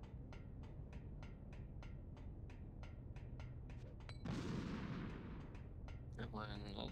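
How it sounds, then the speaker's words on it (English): Grenade explosions and gunfire in Metal Gear Solid: The Twin Snakes sound faint and distant, with regular muffled thumps and one broader burst partway through. "really struggling with landing these grenades"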